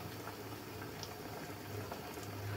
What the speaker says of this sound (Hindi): इसी तरह हम सभी को बढ़िया से फ्राई कर लेते हैं।